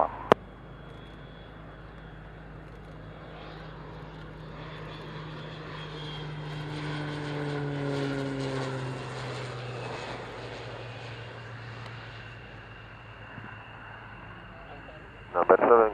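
A fixed-wing propeller aircraft arrives to land on runway 27 at an airshow, its engine drone swelling from a distance, peaking midway and fading, with faint radio chatter audible.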